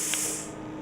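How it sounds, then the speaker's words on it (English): Plasma cutter arc cutting through metal, a brief, steady, loud hissing rush heard alone. "The plasma arc will melt the metals along the line,"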